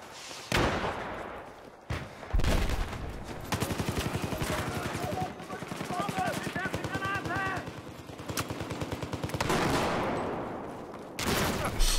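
Rapid automatic gunfire from the shooter Battlefield 4, with loud bursts and single cracks arriving in quick succession and an occasional voice talking over them.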